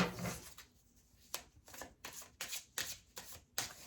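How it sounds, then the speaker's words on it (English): Riffle shuffling of a deck of cards, several quick bursts of crisp flutter separated by short pauses, close up. "let me get a good shuffle till the deck tells me to stop"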